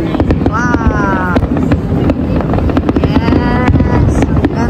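Independence Day fireworks bursting over a downtown crowd, repeated sharp pops and crackles echoing between buildings, with people chattering and cheering close by throughout.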